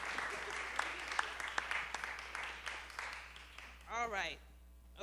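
An audience claps for Lady D at a Chicago chapter panel event. The applause is steady and moderately loud, then a bright whooping cheer rises near the end.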